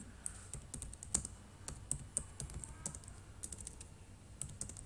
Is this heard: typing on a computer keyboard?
yes